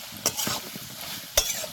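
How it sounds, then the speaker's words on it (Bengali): Mutton frying in released oil and being stirred in a pan, with two sharp scraping strokes of the spoon against the sizzle and a soft, steady crackle between them, close up and without talk. "দেখো মাংস ভাজা হয়ে গেছে, দেখো মাংসতে তেল ছেড়ে দিয়েছে,"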